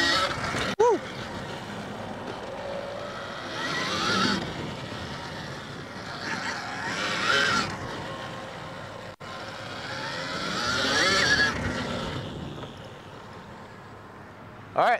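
A dirt bike engine drones and revs through ruts on a track, rising and falling in pitch as the throttle opens and closes, with wind noise and a rider's voice over it.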